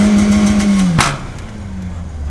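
A modified BMW E36 engine, heard close and loud, holds a steady high-revving drone, then drops off sharply with a brief burst and settles to a lower, rougher idle-like rumble.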